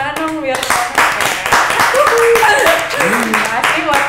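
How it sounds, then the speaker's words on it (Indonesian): An audience claps along in a lively crowd of about 2,000 at a band appearance. Brisk hand claps rattle through the whole stretch while voices talk and cheer loudly over them. "Tepuk tangan dong biar"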